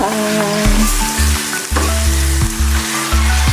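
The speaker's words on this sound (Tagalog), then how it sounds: "Kaya pwede na yan natin igisa-gisa." Chicken and vegetables sauté in a pan with a steady, close sizzle, broken by occasional stirring and a low tonal hum underneath.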